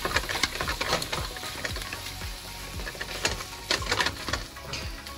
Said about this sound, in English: get me a little potato masher. Just makes this so much easier.